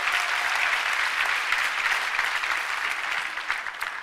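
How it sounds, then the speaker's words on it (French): A church congregation applauds steadily with dense clapping and some cheering. The sound is continuous and fairly loud throughout. "tu peux acclamer le Seigneur"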